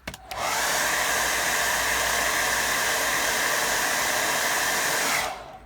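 Hair dryer blowing steadily on a watercolour painting of a countryside cottage to dry it quickly, a loud continuous broadband whoosh starting abruptly and running about five seconds before cutting off, with no talking.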